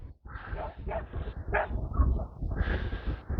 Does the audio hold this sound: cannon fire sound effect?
no